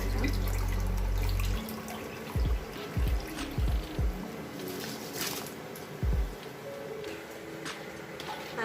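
Rice tipped into a pot of rolling boiling water: a low bubbling rumble, then a few soft splashing pours and settling trickles, close and without talk.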